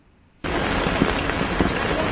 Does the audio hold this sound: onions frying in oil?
no